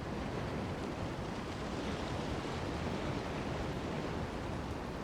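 Waves roll in at the shore of Queenstown Gardens, New Zealand, under an icy gale of about 70 km/h, a dense, unbroken roar of surf and wind buffeting the microphone, with no voices.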